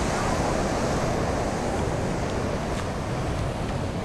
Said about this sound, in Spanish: mira cómo se ven las olas ahí, cómo se ven